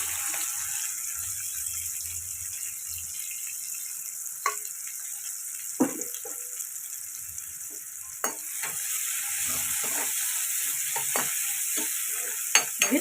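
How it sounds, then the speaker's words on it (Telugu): Sliced onions and green chillies fry in hot oil with a steady bright sizzle. Occasional spoon clicks and scrapes come through, close up, and no one speaks. "ఇవి ఫ్రై అవ్వాలి బాగా."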